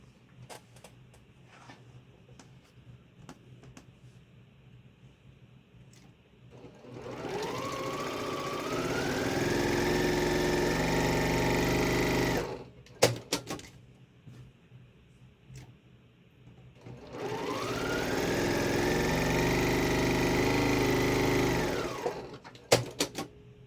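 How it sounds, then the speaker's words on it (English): A sewing machine stitches quilt block pieces a quarter inch from the edge in two long bursts, each revving up to a steady, loud mechanical whir before stopping, with quiet handling sounds and short clicks between them. "I'm going to go ahead and sew all of these at one time, a 1/4 inch on either side."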